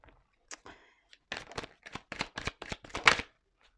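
Tarot cards handled and shuffled, a quick series of crisp riffling flicks and slaps close by, with a few isolated taps before the main shuffle.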